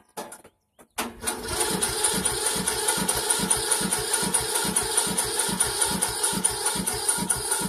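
A Poulan Pro lawn tractor engine on full choke cranks steadily after a brief pause, the starter churning in a loud, regular rhythm for several seconds without catching, heard close and alone.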